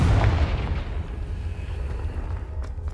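A fiery Confringo spell blast from Hogwarts Legacy opens with a deep boom, then a long, rumbling decay that slowly fades over several seconds without speech.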